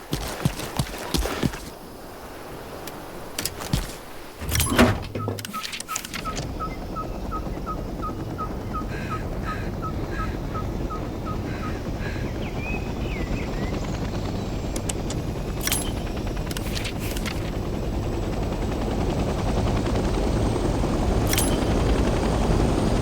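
A helicopter in the Vietnam-era game Hell Let Loose Vietnam starts its engine: a few switch clicks and a quick regular ticking give way to a steady rumbling whine that builds slowly in loudness, with no talk.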